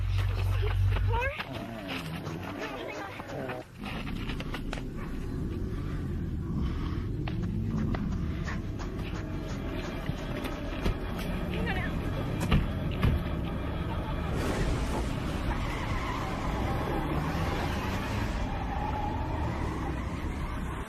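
A car on a road approaches from a distance, its engine rumble rising gradually under an ongoing background hum while people talk urgently nearby.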